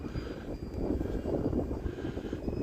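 An Arrows F4U-4 Corsair RC model airplane flies past with a steady electric motor and propeller whine. It is moderately loud and swells gently in the middle, with no talk.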